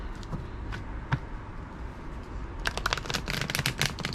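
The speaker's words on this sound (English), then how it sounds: "I'm going to shuffle carrot tarts." Tarot cards are shuffled close by, soft scattered flicks at first, then a quick run of crisp riffling snaps toward the end.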